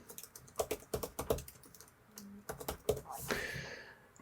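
Keys clatter on a computer keyboard in bursts of quick typing while a name is entered during software setup, close and fairly clear, with short pauses between runs of keystrokes.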